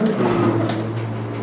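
Pigeon cooing, low and steady, from a flying-breed pigeon kept by a fancier, continuous through the clip with a faint mechanical hum beneath and no clear talk.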